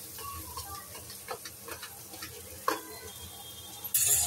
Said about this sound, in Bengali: এবার এখানে মাঝে মাঝে একটু নাড়িয়ে ডিমটাকে অমলেটের মতো করে নিতে হবে